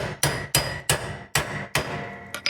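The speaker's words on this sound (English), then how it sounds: "I took a hammer and I just beat up on it." A hammer strikes repeatedly on a part of the vari-drive belt assembly of an MTD Yard Machine riding mower, about seven loud metallic blows in a steady rhythm, close up with no talk.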